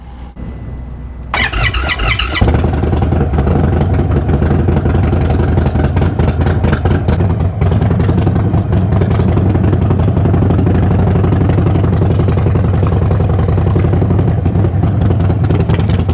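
A 2023 Indian Sport Chief motorcycle with a Stage 2 upgrade and tuning cranks with a short starter whine, fires up and settles into a loud, steady, rumbling idle that runs on alone.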